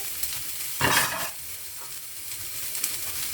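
A close hiss of a dried red chili frying in oil, with a short louder burst of sizzling and a few light stirring clicks.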